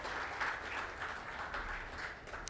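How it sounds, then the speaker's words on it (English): Faint, distant audience applause welcoming a Union Minister at an Indian tourism award ceremony, a steady hiss of many hands clapping with a few sharper claps standing out. "Let's welcome him with a very warm round of applause"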